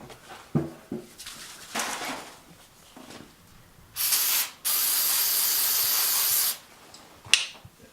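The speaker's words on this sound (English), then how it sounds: "gonna douse this thing in a brake clean" Brake cleaner sprays from an aerosol can onto a machined engine part during a Dodge Dakota engine rebuild, two loud hissing bursts, a short one and then a longer sustained one, amid scattered workshop clinks.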